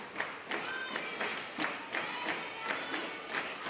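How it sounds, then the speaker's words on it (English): Crowd at a McLennan Community College volleyball match cheering with rhythmic, evenly spaced clapping bursts in a steady chant-like pattern, fairly close and lively throughout. "Once again, the crowd hyping up the Highlanders."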